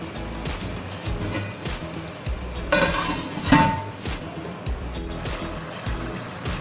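Kaleji liver masala with onions and tomatoes cooking in a covered pan, a steady low simmer and sizzle punctuated by clinks and scrapes of a spoon and lid against the metal pot.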